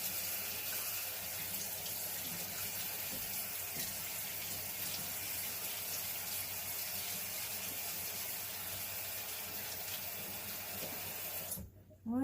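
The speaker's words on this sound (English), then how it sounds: "let me wash my fingers" Tap water runs steadily into a sink as fingers are washed under it, a constant close hiss and splash that cuts off abruptly near the end.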